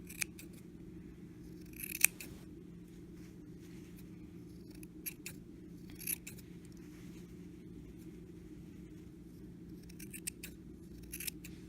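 Scissors snip repeatedly at a yarn pom-pom, with faint irregular cutting clicks over a low steady hum, close and quiet.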